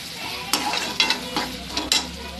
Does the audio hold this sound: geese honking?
no